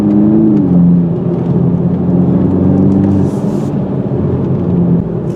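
A 2021 Toyota Supra with the 4-cylinder engine, revving and pulling on the road, a steady engine drone with a rising then settling tone and constant road rumble, heard close from inside the car with no talk.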